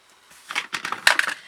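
Ribbon scissors snip through ribbon on a small handmade treat box: a few quick, crisp cuts in a short cluster, close and clear in an otherwise quiet room.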